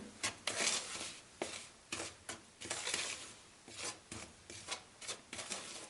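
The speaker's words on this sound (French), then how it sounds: "Je commence à tourner pour mélanger déjà ces ingrédients" Flour, baking powder and other batter ingredients stirred in a bowl, a close scraping rub repeating in quick regular strokes for several seconds, with no voices.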